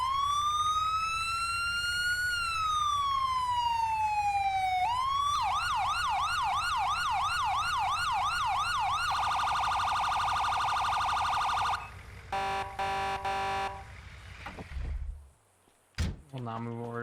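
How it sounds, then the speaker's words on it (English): Emergency vehicle sirens from the FiveM video game cycle loudly and steadily through a rising and falling wail, a fast yelp and a rapid pulsing tone, then short blasts and a few horn toots before fading. "I will now be showing off the FDs, Sirens, and Horns"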